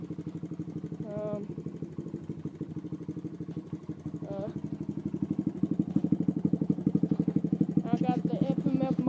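A motorcycle fitted with an FMF muffler idles steadily nearby, a rhythmic, slightly clattery putter that grows a bit louder toward the end, with faint voices in the background.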